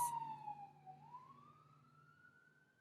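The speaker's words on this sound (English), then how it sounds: "Let's just let this ambulance pass." A siren wails at a moderate distance, its pitch dipping and then climbing into a long steady tone as the vehicle passes.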